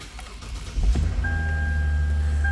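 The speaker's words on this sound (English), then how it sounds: "I'm going to go ahead and start this car up too, so you can hear it run" A 2010 Lexus IS 350C with no modifications cranks briefly and fires up, then settles into a steady, close idle hum with a faint electronic tone running over it.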